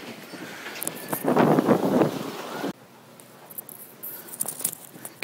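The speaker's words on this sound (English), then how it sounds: "It's much too windy outside." Strong wind buffeting a microphone on the exterior deck of a motor yacht, loud gusty rumbling that swells then abruptly drops, with faint rustling and tapping afterward.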